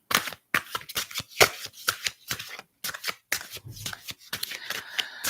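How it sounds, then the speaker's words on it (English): Playing cards being shuffled close up: quick repeated riffling bursts with short pauses between them. "So I'm just kind of shuffling up a little bit."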